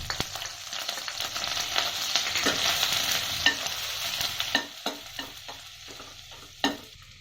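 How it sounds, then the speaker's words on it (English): Grated garlic sizzles in melted butter in a pan for a keto split moong dal soup. A steady frying hiss runs throughout, with scattered stirring clicks and scrapes close by. "Add the grated garlic."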